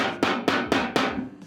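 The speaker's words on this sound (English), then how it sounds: "If though it doesn't have holes in it already, trusty hammer and a nail" Four sharp, evenly spaced metallic strikes of a hammer driving a nail through a plant container to punch drainage holes, each hit ringing briefly, followed by a faint fifth tap, close and loud with no talking.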